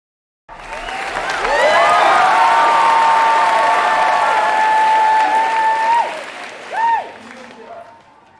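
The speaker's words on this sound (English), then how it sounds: "Maureen, I have to give you a round of applause." Audience applause bursts out and swells into loud, sustained clapping, with high whoops and cheers riding on top before it fades, followed by a short vocal yelp.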